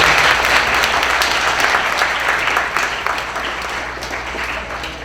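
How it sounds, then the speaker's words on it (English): An audience at a Student of the Month ceremony gives a round of applause for student Cynthia, with steady, full clapping that fades slightly toward the end. "So again, one more round of applause"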